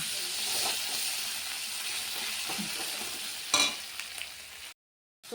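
Ginger garlic paste and spices sizzle and hiss in a hot pan while a prawn curry is cooked, with a steady frying crackle, occasional stirring scrapes and a brief sharp clatter, then a short break.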